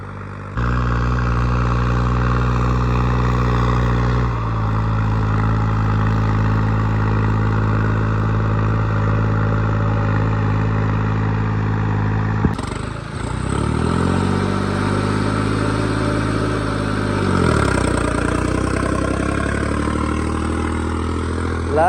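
A Holland 5620 tractor engine runs loudly and close, a deep steady diesel drone with strong low throb that dips and revs up again midway, then settles back to a rumbling idle, no talk.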